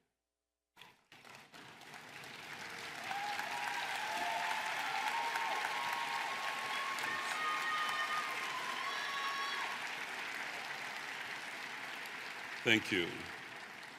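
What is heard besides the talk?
applause for graduates' supporters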